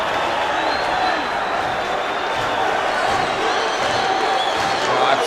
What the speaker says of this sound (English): And listen to the crowd, Brian. They're going wild.